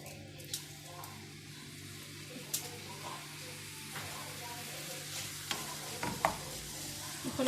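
Vegetables for a vegetable-filled savory pastry cook in a pan with a steady low sizzle, a few sharp clinks of a utensil scraping and stirring standing out now and then.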